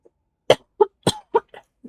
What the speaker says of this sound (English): I am coughing up a storm.